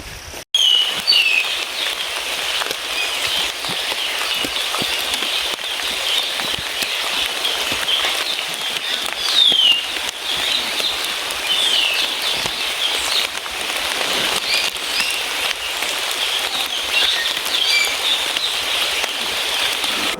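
Steady rain hisses on the summit of Kathirmudi hill in Thiruvananthapuram district, a continuous even wash of sound with a few faint bird chirps scattered through it and no voices.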